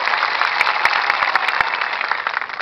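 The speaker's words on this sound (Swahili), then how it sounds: "Hebu mpigeni makofi" A crowd claps steadily at a political campaign rally, dense applause running evenly and close throughout, with no talking over it.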